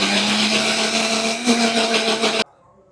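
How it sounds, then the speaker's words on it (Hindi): A mixer grinder grinds soaked chickpeas with curd, a steady loud whirring motor hum with a bright harmonic whine that runs continuously for over two seconds, then cuts off abruptly into near silence. "अब इसको हम ग्राइंड कर लेंगे"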